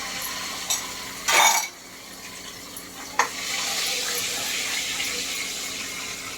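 A light clink and a sharp knock, then a steady sizzle of ginger hitting hot oil that continues evenly to the end.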